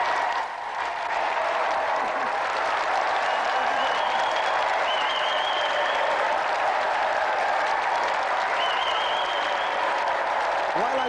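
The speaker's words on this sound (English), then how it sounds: "Let's have another round of applause for Auntie Marisha and our special guest" Studio audience applauding on a British television game show, a steady broad wash of clapping and crowd noise that carries through the whole stretch at a fairly even level.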